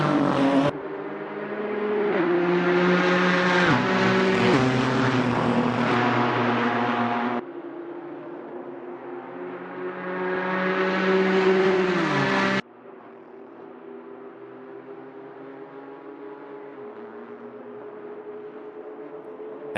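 Touring cars race in a sim racing league game, their engines whining loud and sustained with gear changes and pitch sweeps, one car then another passing close without talk.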